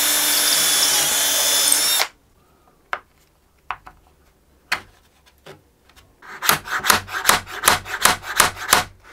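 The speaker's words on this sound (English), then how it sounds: "drill the hole through" A power drill whines steadily, drilling a hole through wood for a couple of seconds, then stops; scattered clicks and taps follow, then a series of rhythmic rasping scrapes.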